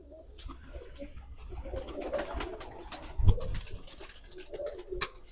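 Pigeons of the asal chohy kabootar breed coo repeatedly at close range, a soft low murmuring over a busy background with scattered sharper bird sounds and one louder burst midway.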